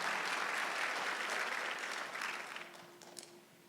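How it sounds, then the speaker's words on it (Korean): A church congregation at a Sunday service claps together, a soft, even wash of applause that tapers off toward the end. "박수하세요."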